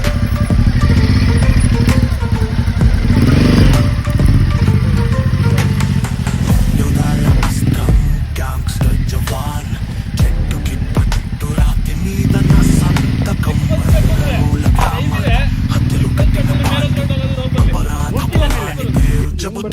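A motorcycle engine on an off-road trail revs and surges under throttle, loud and close, with repeated rises and falls in pitch over rough, rumbling noise.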